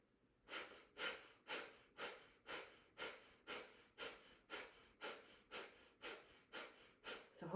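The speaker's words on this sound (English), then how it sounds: "We want to pump this breath in and out of the nostrils" Rapid, rhythmic breaths pump in and out through the nostrils with the lips sealed, about two per second in a steady forceful train during a detoxifying breathing exercise. The breaths are close and quiet, and no one speaks.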